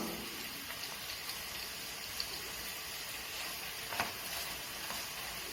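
Onions and green chillies sizzle steadily in a pan, a soft continuous crackle with faint pops and no talking.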